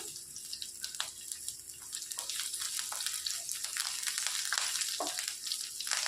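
Fresh curry leaves and a cut green chili frying in hot oil, a steady dense sizzle and crackle throughout, close and fairly loud, with a few faint clicks.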